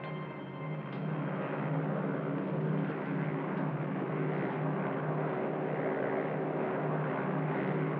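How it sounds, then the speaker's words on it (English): An American C-47 transport aircraft flies steadily, its piston engines giving a constant loud drone that holds without a break. "one lone American C-47 transport wings its way into hostile territory with a special payload"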